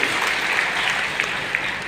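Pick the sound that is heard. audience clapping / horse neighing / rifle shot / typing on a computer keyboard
audience clapping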